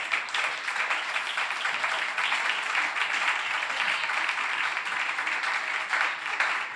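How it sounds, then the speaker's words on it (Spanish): A church congregation bursts into sustained applause during a worship service, a soft, even wash of many hands clapping that carries on for several seconds, heard from some distance. "Dele aplauso al Señor."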